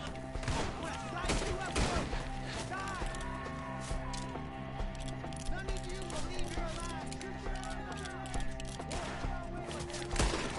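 Video game gunfire: scattered shots and thuds throughout, mostly quiet, mixed with steady background music.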